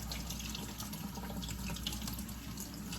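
Cold tap water runs steadily into a sink as dry beans are rinsed under it. A continuous close splash and hiss plays with no talk.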